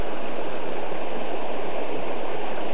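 White water on a river rushes beneath a bridge, a loud, steady wash of flowing water close by, unbroken and with no voices.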